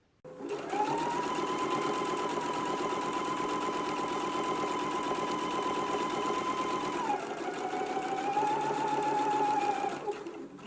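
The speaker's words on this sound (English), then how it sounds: "I've just done my row of top stitching on my pockets" A sewing machine top stitches fabric pockets in one long continuous run, its motor humming steadily and loudly, with a brief dip in pitch before it picks up again.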